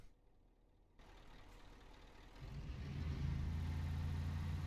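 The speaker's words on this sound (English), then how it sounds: "let's sit on the roof and see what the engine noise is like" Truck engine in Euro Truck Simulator 2 heard from outside the cab on the roof, a low droning rumble that starts quiet, then steps up and grows louder and deeper as the revs rise.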